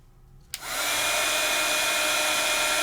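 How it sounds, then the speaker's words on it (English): A heat tool clicks on and settles into a steady, loud whirring blow as it melts embossing powder, running continuously after a short quiet lead-in. "So a little embossing powder goes a really long way. And then let's heat."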